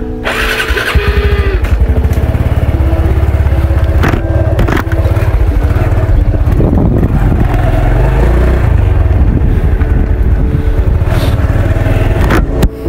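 A motorcycle engine runs loud and close throughout, with a steady rough idle and clattering mechanical texture. No one speaks.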